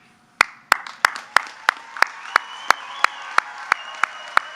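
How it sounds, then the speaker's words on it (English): Slow, evenly spaced claps, about a dozen sharp hits starting after a brief quiet moment, ringing in a large hall at a spring commencement ceremony for graduates. "There's going to be a lot of clapping here today and a lot of celebration"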